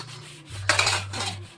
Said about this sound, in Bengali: এখন আমি তুলি ঢাকনাটা।